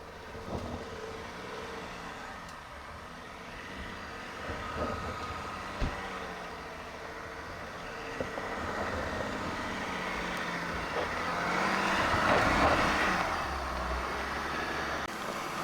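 Land Rover Defender L663 and Discovery L462 climbing a steep off-road hill with a big dip, engines working under load as a steady drone that swells louder near the end, with occasional knocks from the terrain and no talk.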